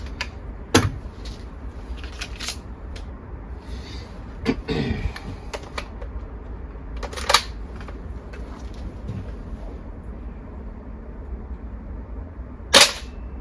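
VFC GBB MP5 gas blowback airsoft gun fires a few sparse, sharp snapping shots in cold weather, each a crisp metallic crack separated by quiet pauses.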